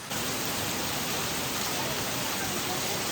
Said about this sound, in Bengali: বৃষ্টির আওয়াজ শুনে বুঝতে পারছেন যে কত জোরে বৃষ্টি হচ্ছে